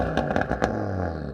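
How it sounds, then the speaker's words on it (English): An Audi RS3 fitted with an AWE aftermarket exhaust revs in a few quick blips, loud and close, with crackly bursts between and a steady low idle rumble underneath. "Rev your car, Dan, let's have a listen to it."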